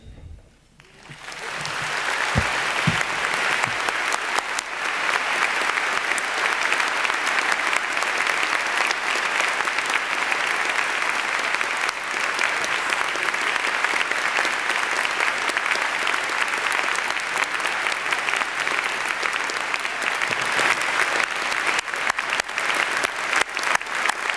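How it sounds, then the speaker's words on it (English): Sustained applause from a commencement audience at a university graduation ceremony, starting with a few scattered claps and quickly swelling into a loud, dense, steady ovation that holds for over twenty seconds. "the students said it better than I could with their applause"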